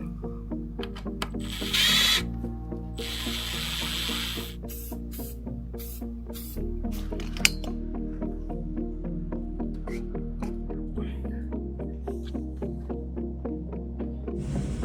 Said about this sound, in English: screw it down from the top